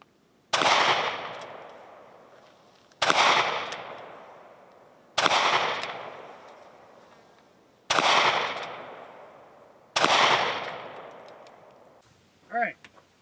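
Five loud, evenly spaced gunshots from a North American Arms Pug mini revolver fired at long range outdoors, each sharp crack followed by a long echoing decay, with a brief voice at the end.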